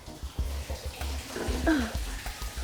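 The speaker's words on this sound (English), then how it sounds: "So this is how water is drawn from an ancient well." Water sloshing and splashing in short uneven bursts as a bucket is hauled up from an ancient well in Israel, close and moderately quiet, with a brief voiced exclamation partway through.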